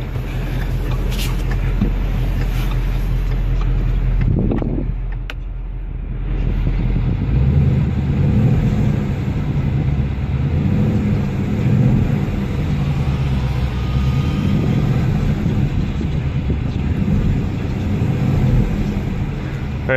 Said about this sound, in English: I'm just gonna give it a couple revs.